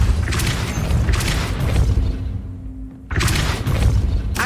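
The Depulso spell is cast in Hogwarts Legacy and lands as a loud, booming blast. The burst breaks off into a brief quiet with a thin tone, then another heavy impact follows.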